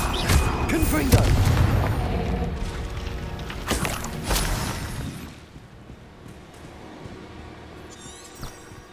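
A Confringo fire spell blasting in Hogwarts Legacy, with a dense run of loud booming bursts and crackling impacts over the first five seconds, then quieter ambience with a faint late hit.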